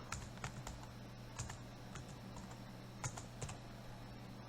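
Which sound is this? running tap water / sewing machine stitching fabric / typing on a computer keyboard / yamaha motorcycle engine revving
typing on a computer keyboard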